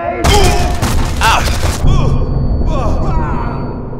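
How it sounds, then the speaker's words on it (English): Machine gun fire in the World War II shooter Sniper Elite V2, loud rapid bursts with booming echo, a dense volley followed by a second shorter burst that trails off. "that is a machine gun"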